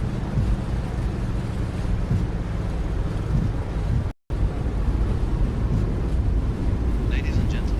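Boeing 737 MAX thrust reversers roar after landing at Dallas, heard from the cabin as a loud, continuous broadband rush of air and engine noise with one brief cutout midway.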